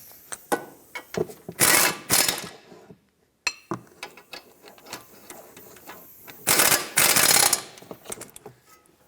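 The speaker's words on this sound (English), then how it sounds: "let's bottom these out and then we'll torque them" Bolts on a 2012-2020 Ford Focus front brake caliper bracket being run down with a ratcheting tool, close, loud bursts of rapid mechanical clicking separated by quieter pauses and small knocks.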